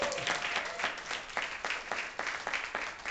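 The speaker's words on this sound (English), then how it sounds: "Guys, give her another round of applause." An audience gives a round of applause, fairly faint and steady throughout, with individual claps pulsing in a loose rhythm.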